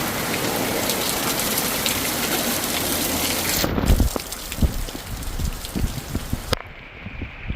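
Heavy rain pours steadily onto surfaces, a dense close hiss broken by louder splashing drops, then thinning to scattered patters toward the end.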